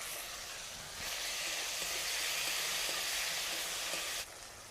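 Chopped tomato dropped into a hot pan sets off a sudden, dense hissing sizzle that holds steady for about three seconds before dropping back to a softer background hiss.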